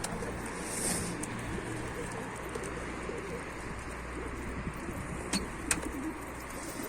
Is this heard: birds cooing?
yes